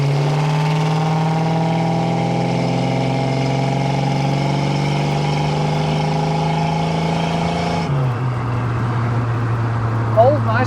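A 1950 Chevrolet 3100 five-window pickup with painted steel wheels accelerates on the road, its engine note rising steadily under load, then dropping sharply at a gear shift before settling into a steady drone; loud and close throughout.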